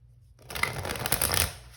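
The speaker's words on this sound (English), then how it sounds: "One more shuffle." Tarot cards being shuffled close by, a brief burst of riffling and flicking that starts after a moment of near silence and tapers off.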